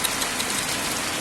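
Rain falls in a dense, unbroken hiss that fills the short stretch at a fairly low, even level, with no voices.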